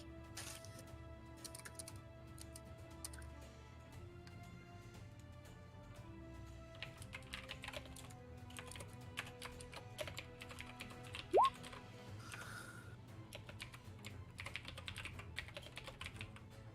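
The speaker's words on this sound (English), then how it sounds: "I'm typing." Someone types on a computer keyboard in scattered bursts of close, crisp key clicks, over a low steady hum and faint sustained tones, with one brief rising squeak partway through.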